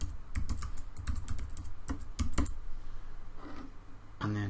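A computer keyboard is typed on in quick irregular bursts of close, crisp key clicks, with a short pause before a final louder tap.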